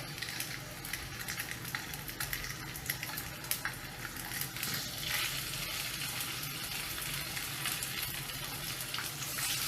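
Salmon fillets pan-searing on high heat, crackling and sizzling in a steady, fairly quiet hiss that carries on without pause and with no talking.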